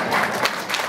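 A studio audience at a Czech television show claps together, a brief, fairly loud burst of many hands with pulsing swells throughout.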